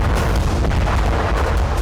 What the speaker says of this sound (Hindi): ये वही स्वदेशी तोप है जिसने तुर्की से लेकर अजरबैजान की नींद उड़ा रखी है।